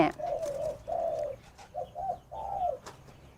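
Spotted doves in breeding cages give soft, repeated low cooing phrases, several rolling coos in sequence, fairly close but quiet, with faint background noise.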